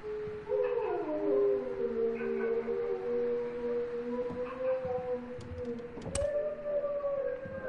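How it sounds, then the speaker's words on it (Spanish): Several dogs howl in long, wavering, overlapping tones near a spooky house, the howls rising and sliding steadily across the whole stretch with a brief sharp knock near the end. "se oyen unos perros"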